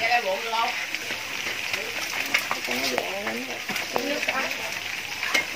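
Chicken wings fry in fish sauce across pans at a party cookout, with a continuous crackling sizzle running throughout while several people talk over it nearby.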